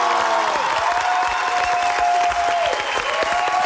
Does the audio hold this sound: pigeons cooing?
no